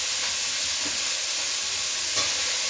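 Chicken pieces fry in a pan in a village kitchen, a steady hiss of sizzling oil with a few soft stirring scrapes, close and alone without talk.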